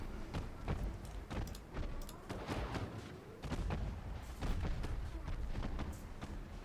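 Rapid naval gunfire in a World War II US campaign video game as a ship shoots up an enemy transport, with dense overlapping booms and cracks rolling on steadily at moderate level.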